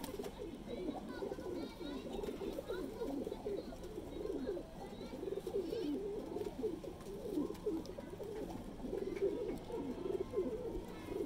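Many Teddy breed breeding pigeons in a Lahore loft coo continuously in low, throaty murmurs, a dense overlapping chorus at close range with no pauses.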